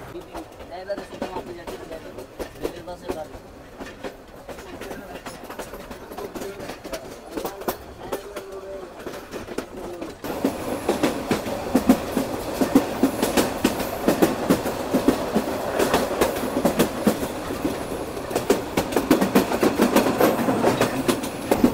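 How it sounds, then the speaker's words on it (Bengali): Korotoa Express passenger train runs on tracks between Bonarpara and Gaibandha in Bangladesh, a steady rumbling clatter of wheels and carriages that grows noticeably louder partway through and keeps a close, continuous rhythm. "বোনারপাড়া রেলওয়ে স্টেশনে আমাদের ট্রেন 2 মিনিট হল্ট দিয়ে আবারও যাত্রা শুরু করলো গাইবান্ধা রেলওয়ে স্টেশনের উদ্দেশ্যে"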